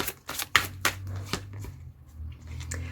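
A deck of tarot cards is shuffled before a card is drawn, giving a close run of soft, riffling flicks and slaps with a low hum underneath.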